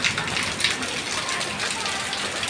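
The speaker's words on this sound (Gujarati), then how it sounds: "કરા પડે છે ને" Hail falls on a road and a metal roof in a continuous dense patter of many small impacts, steady and close, with faint voices talking under it.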